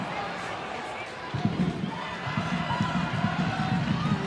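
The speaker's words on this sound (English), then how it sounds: "you can hear this Adelaide United crowd getting right behind their team" Large football stadium crowd of Adelaide United supporters cheering and chanting in a continuous distant roar, with a commentator talking over it.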